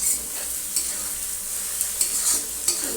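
Tomato frying in a pan over reduced gas, a close steady sizzle with repeated scrapes and taps as a spatula stirs it.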